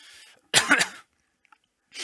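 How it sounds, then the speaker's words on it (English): A single harsh cough burst close to the mic, preceded by faint breathy noise and followed by a short quiet pause and another soft exhale. "sorry for the cough, I just have a bad cough"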